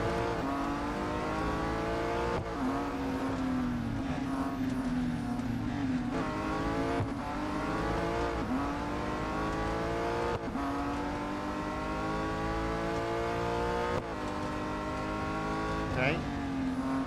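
Race cars roar through the Real Racing 3 video game, with a steady, dense engine drone shifting pitch through gear changes and revs, broken by brief dips and a tire squeal near the end, alongside commentary.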